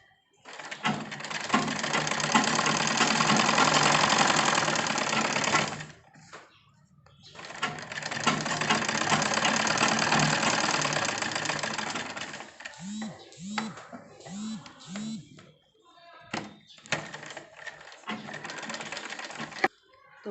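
Domestic sewing machine stitching a fabric strip in long continuous runs, pausing and restarting, with short bursts and light mechanical clicks between stitching passes.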